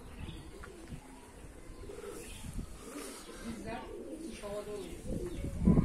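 Soft low coos from Miro and Resasi tumbler pigeons repeat under a noisy outdoor background, with some voices and rustling nearby.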